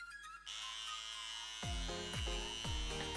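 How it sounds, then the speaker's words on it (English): Electric hair clipper trimming hair, a steady close buzzing hum that deepens into a rougher, pulsing drone as the blades bite into the hair. "Make sure you hold the clipper like this"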